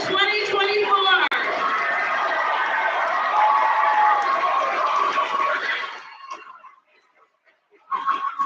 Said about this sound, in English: Let's give one last round of applause to the class of 2024.